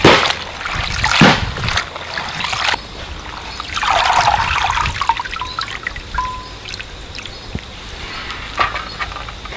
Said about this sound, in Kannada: ಇದನ್ನು ಈಗ ನಾವು ಚೆನ್ನಾಗಿ ತೊಳೆದುಕೊಳ್ಬೇಕು